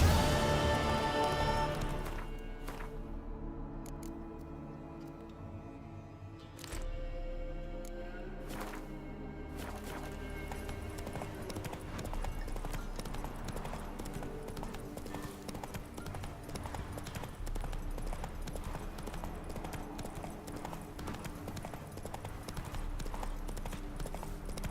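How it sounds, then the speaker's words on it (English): A horse gallops in a video game, its hooves clip-clopping in a quick, steady rhythm that carries on throughout at moderate volume. "Run, Roach"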